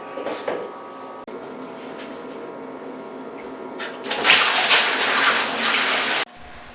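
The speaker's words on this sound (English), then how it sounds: "Since we've got 3/4 of full tank of water, we can use that water to siphon the sand." Water from a three-quarters-full aquarium tank siphoned through a tube to pull sand out, a steady close hiss and gurgle that swells into a louder rushing gush for a couple of seconds before cutting off abruptly.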